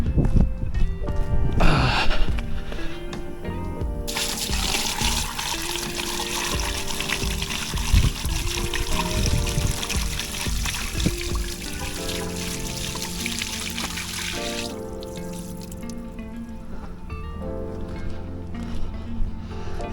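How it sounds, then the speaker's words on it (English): Sediment-laden water is slowly poured out of a 5-gallon bucket after a hot water tank flush, giving a steady close trickle and splash that runs for most of the stretch with no talk. "I'm gonna slowly dump this."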